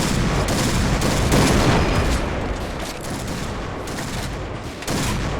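Gunfire rattles in the shooter game Point Blank, with dense, continuous bursts of automatic fire and booms filling the whole stretch, loud and close.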